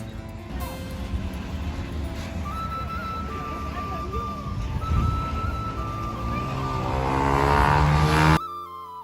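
Road traffic passing nearby, with a continuous car rumble, a sustained high tire-like whine, and a vehicle swelling louder toward the end before the sound cuts off abruptly; voices talk underneath.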